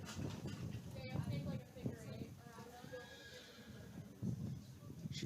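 A horse whinnies amid a barrel racing event at an open equestrian games, the wavering neigh sounding at middle distance under an announcer's talk and arena noise, with hoofbeats nearby.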